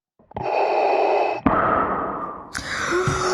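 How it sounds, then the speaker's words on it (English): Heavy, rasping breaths drawn in and pushed out with a hollow, mechanical edge, loud and close, with a sharp hiss partway through. "you hear the heavy breathing"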